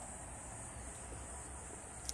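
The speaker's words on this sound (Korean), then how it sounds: "매미 우는 소리 너무 좋다" A faint, steady high-pitched drone of cicadas sings from a distance at a farm hut, unbroken throughout, with no one speaking.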